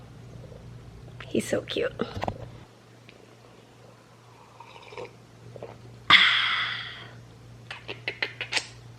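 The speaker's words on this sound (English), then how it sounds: "He's purring" A cat gives a low, steady purr close to the mic during a morning snuggle, a soft continuous rumble that carries on beneath quiet, whispery talk.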